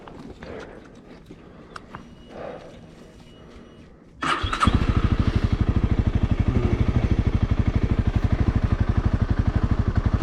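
A Honda CRF300L dirt bike on an Arctic snow ride at about -10 °C fires up abruptly after near-quiet, then settles into a steady, close, loud rhythmic engine thrum.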